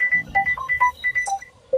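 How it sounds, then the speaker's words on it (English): A telephone rings with a rapid, warbling electronic pattern of short repeated tones, fairly close and clear, with no speech over it. "There's a phone ringing."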